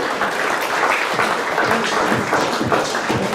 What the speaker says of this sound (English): Let's give a round of applause to St. Charles and Tivan, please, as he comes forward.